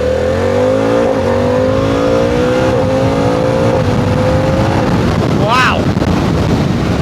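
A 2025 Harley-Davidson Pan America ST motorcycle engine pulls hard through rising revs with brief shift dips, loud and close under heavy wind rush, ending in a sharp rising whine.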